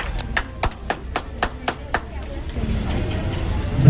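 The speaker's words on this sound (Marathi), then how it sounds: "सर्वांनी टाळ्या वाजवते अभिनंदन करावं शिंदे साहेबांचं" A small crowd at a monthly lucky-draw prize event claps for a winner receiving a pure silver coin: a quick run of crisp, evenly spaced claps that gives way to a general murmur of noise and voices.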